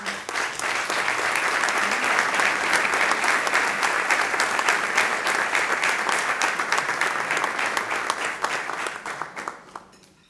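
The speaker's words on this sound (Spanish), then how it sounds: "Por favor, un aplauso." Sustained applause from an audience at an official Holy Week proclamation event in Jódar, Spain, steady and full for about ten seconds before tapering off at the end.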